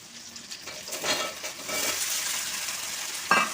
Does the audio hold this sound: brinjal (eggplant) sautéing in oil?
yes